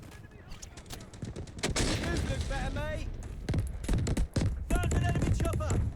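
UMP submachine gun firing in Delta Force; rapid bursts of automatic fire in sharp, closely spaced cracks, loud and near, broken by short pauses, with someone talking over the shooting.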